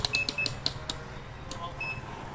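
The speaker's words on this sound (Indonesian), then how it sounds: "Ini saya tes ini dulu, tes buzzer ya." A multimeter continuity buzzer beeps in a series of short, sharp chirps while a faulty Acer Aspire 3 A314 AMD laptop is being tested, close and clear over a quiet room.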